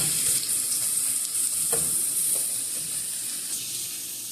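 Egg sandwich mixture cooking in a pan while being mixed, a constant close, loud frying hiss with a few soft scrapes of the spoon, no voices.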